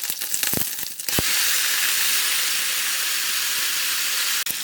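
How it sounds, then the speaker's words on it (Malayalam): Marinated chicken drops into hot coconut oil with curry leaves and bursts into a loud, steady sizzle. The hiss stays strong and unbroken after a few crackles and clatters at the start, with no talking. "ചൂടായ വെളിച്ചെണ്ണയിലേക്ക് നമുക്കൊരു കറിവേപ്പില ഇട്ട് കൊടുക്കാം ഇതിലേക്ക് നമ്മൾ നേരത്തെ മിക്സ് ചെയ്തിട്ട് ചിക്കൻ ചേർത്ത് കൊടുക്കാം"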